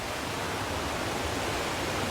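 Shining Creek running beside a mountain trail in the Shining Rock Wilderness, a steady, close, full-spectrum rush of flowing water with no break and no voices.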